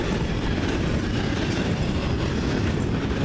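A CN train rumbles past on the rails in Ladysmith, its wheels clattering in a steady, loud, continuous roar close by.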